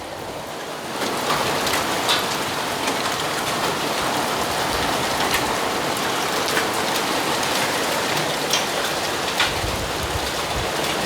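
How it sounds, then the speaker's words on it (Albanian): A dense, continuous roar of heavy hail beats down on surfaces, with scattered sharper impacts from large hailstones standing out above the steady wash. "Breshëri sinqerisht që nga më i dhunshëm sot, më me kokra shumë të mëdha."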